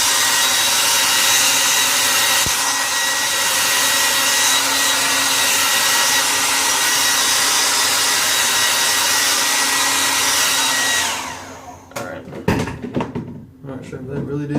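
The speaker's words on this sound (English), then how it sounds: "let me get my blow dryer and just kind of dry it out just a little bit" A hair dryer blows with a steady, loud whoosh for about eleven seconds, then shuts off, followed by a few clattering handling noises.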